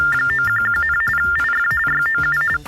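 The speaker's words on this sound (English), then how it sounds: "a telecommunications device for the deaf. And that sounds something like this." Rapid electronic tone bursts alternating between two high pitches from a TTY device for the deaf, a steady warbling data-like signal over a phone line, loud and continuous, no talk.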